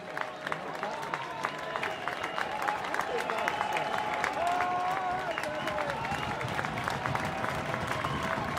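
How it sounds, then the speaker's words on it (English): Baseball crowd at Goss Stadium, Oregon State hosting Stanford, making noise with bases loaded: a steady wash of cheering, clapping and rhythmic claps, with a raised voice rising above it midway. "Crowd here at Goss making some noise"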